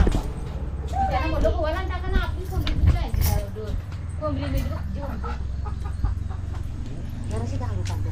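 Chickens cluck in repeated short bursts close by, with several birds sounding on and off throughout as people talk over them.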